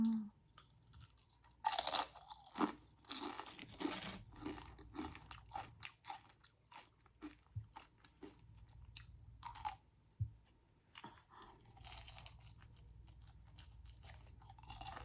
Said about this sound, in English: Let me try one of these chips.